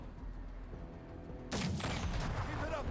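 A disposable anti-tank weapon fired in the tactics game Menace, a sudden loud blast halfway through after a quiet lead-in, followed by a rumbling echoing tail.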